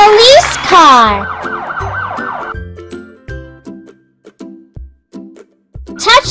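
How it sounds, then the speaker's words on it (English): Cartoon police car siren in a children's vehicle video game, a loud wailing electronic sweep followed by a sequence of bright chiming jingle tones and playful game sound effects. "Police car."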